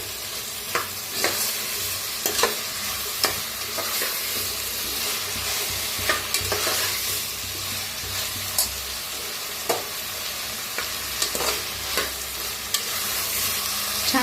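Tomatoes frying in a pan for masale bhat, with a constant bright sizzle and regular spatula scrapes and taps throughout.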